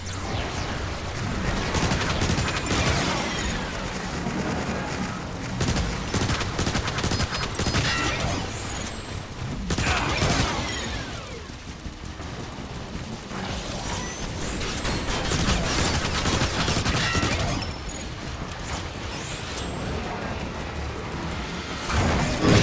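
Dense, loud bursts of rapid gunfire and mechanical clatter as aerial bots are shot down in Transformers War for Cybertron, continuous for over twenty seconds with brief lulls between volleys.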